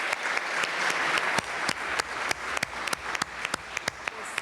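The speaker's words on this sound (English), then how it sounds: "a round of applause is merited to the three speakers here" Steady audience applause for three conference speakers fills a hall, dense clapping with a few sharper individual claps standing out near the mic.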